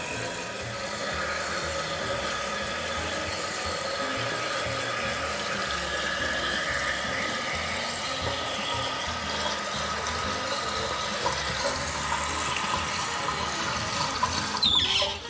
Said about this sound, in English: We're going to let this thing fill up, and then we're going to adjust our water height in the tank